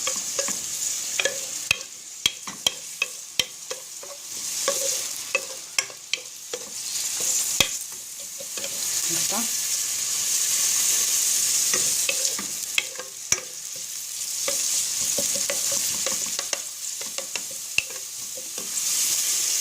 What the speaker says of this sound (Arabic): خليه يتقلى هكذا